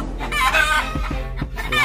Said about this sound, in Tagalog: Alaga niyang manok.